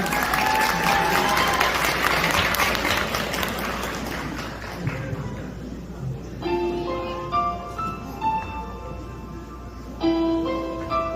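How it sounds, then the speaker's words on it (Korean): Wedding guests clap warmly in a hall, the loud applause fading over several seconds as gentle piano-like music begins and carries on alone. "우리 신부님의 직장 동료 되시는 최진영님을 따뜻한 박수로 맞이해 주시기 바랍니다."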